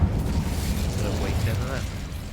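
An Incendio fire spell cast in Hogwarts Legacy on Xbox Series X flares as a dense, roaring rush of flame. It holds steady for a couple of seconds over a constant bed of low game rumble.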